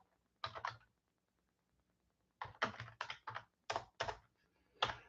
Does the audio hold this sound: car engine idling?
no